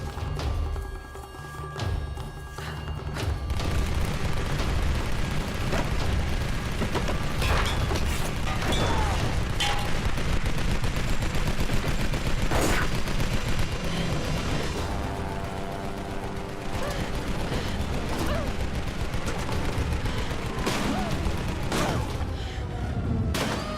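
Gunfire in the Tomb Raider video game, a sustained loud barrage of shots and thuds over rumbling mechanical noise, with sharp cracks scattered throughout.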